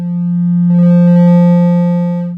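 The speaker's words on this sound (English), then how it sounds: "We have digital clip." A steady sine tone runs through Ableton's Saturator set to digital clip. The pure low note picks up a ladder of bright harmonic overtones partway through, then holds loud and sustained without any voice.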